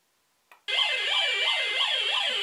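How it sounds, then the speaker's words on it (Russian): A water sensor plate on a Znatok electronic construction kit sets off its alarm circuit. After a small click, a loud warbling siren tone rises and falls steadily and continuously. "Видишь, как она срабатывает, на сенсор срабатывает на воду? И сигнализация."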